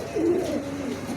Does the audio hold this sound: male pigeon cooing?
yes